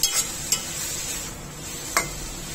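Masala ingredients with cashews sauté in a pan for paneer butter masala, a soft steady sizzle near the pan with a few quick metallic scrapes and clinks of a spatula, no talking.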